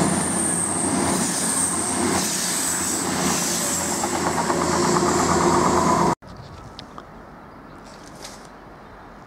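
A train rumbles loudly past through Lawrence Hill station with metallic wheel squeal and steady clatter, then the noise cuts abruptly to quieter background with faint distant clanks.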